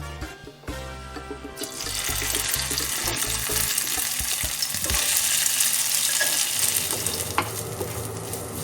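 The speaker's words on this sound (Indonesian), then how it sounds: "Lalu kita tumis sampai harum" Ground chili, garlic and dried shrimp paste sauté in about a tablespoon of oil, a steady crackling sizzle with faint stirring that rises after the first second and holds loud and close throughout.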